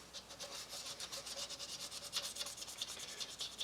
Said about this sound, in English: This is 400 paint, or 400 sandpaper.